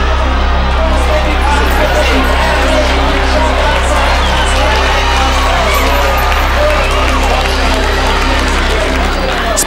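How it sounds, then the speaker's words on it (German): A racecourse crowd roars and cheers after a horse race, a dense, steady wall of voices and applause lasting the whole stretch, with a voice talking over it. "das Publikum ist begeistert"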